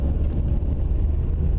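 Steady low rumble of a car on the road, heard from inside a moving vehicle as an Audi passes, continuous and fairly loud with road and wind noise, no talk.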